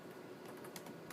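Someone types a command on a computer keyboard, a quiet, close patter of key clicks in quick irregular succession with a few sharper taps near the end.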